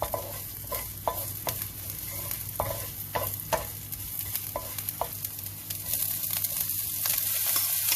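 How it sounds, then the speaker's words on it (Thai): Oil sizzles steadily in a hot wok as chili and garlic stir-fry, while a utensil scrapes and stirs in irregular taps, the frying growing louder and hissier toward the end. "พอกระทะเริ่มร้อนเราก็ใส่พริกกระเทียมลงไป"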